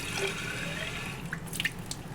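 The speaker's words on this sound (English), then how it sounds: "And I'll put some more water in" Water trickles and splashes as it is poured into a measuring cylinder during a density lab, a soft continuous pour with a few bright drips and plinks toward the end.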